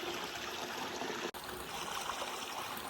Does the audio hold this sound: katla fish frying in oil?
no